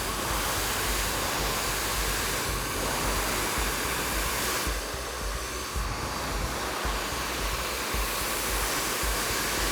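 Hair dryer blowing steadily on hair with the nozzle facing down, a constant rushing airflow with small shifts in tone as it moves, fairly quiet and with no talking.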